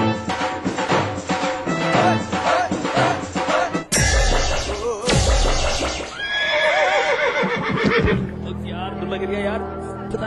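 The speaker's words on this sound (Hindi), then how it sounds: "यार पता नहीं घोड़े को क्या हो गया।" A horse whinnies loudly and repeatedly in a cement advertisement, long shrill neighs over a busy background of voices, hoofbeats and other effects.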